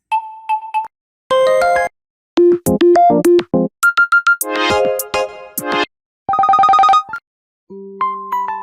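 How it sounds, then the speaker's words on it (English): Several different phone ringtone samples from the Telegram app play one after another, loud and clear, each a short burst of electronic chimes, tones or melodies separated by brief silences. "You can choose any one ringtone of your choice."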